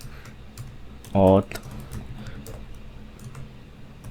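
Someone types a gcloud command on a computer keyboard, a quick cluster of sharp keystroke clicks in one short burst while someone talks.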